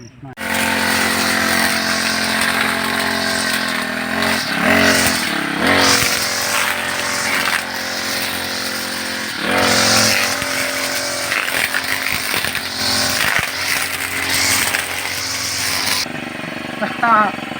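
A motorized brush cutter clears a garden, its loud, steady engine whine running almost continuously with brief dips as the blade works through growth, while voices talk over it.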